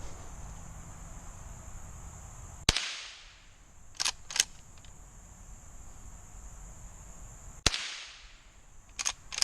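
Two sharp rifle shots from a Henry Classic ring out outdoors, fired at bottles stuck in mud, several seconds apart. Each is a loud crack followed by a short echo, with a couple of fainter clicks between them and crickets faintly in the background.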